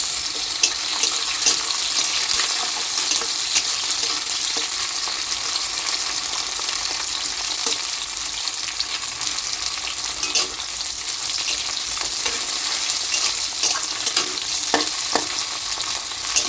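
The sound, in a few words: onions and tomato frying and being stirred in a pan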